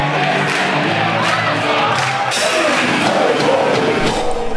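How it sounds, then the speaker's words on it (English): Home crowd at a rock concert at the Metro in Sydney, a dense, loud roar of many voices shouting and cheering together, sustained throughout with rising whoops and bellows near the end. "the home crowd was a ripper, and happy to help us out with some of our sing-along classics"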